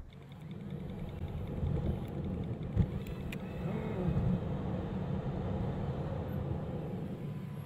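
A car pulls away from a traffic light on a driving-test route, its engine rising to a moderate steady hum with road noise, close and continuous without speech.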